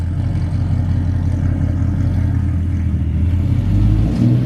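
A Ford Falcon XR6 Turbo's engine rumbles steadily, then swells louder near the end as it revs and pulls away, close by with no voices.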